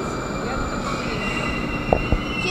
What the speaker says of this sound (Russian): Поезд Александровец.